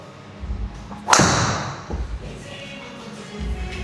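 A golf ball is struck on the course at Augusta National with one sharp, crisp club impact, followed by a fading whoosh as it flies off, amid quiet outdoor ambience.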